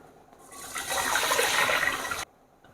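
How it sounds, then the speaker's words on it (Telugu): Water poured into washed rice in a pressure cooker, a steady gushing pour that builds over a second, holds loudly and stops abruptly, close up. "2 glass రైస్కి 4 glass వాటర్ యాడ్ చేసుకుంటాము"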